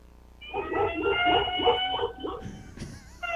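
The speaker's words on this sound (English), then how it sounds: "I'm hearing an alarm and some barks." An alarm rings steadily while a dog barks in a quick run of repeated yaps, all heard thin and boxy over a phone call into a live sports talk show.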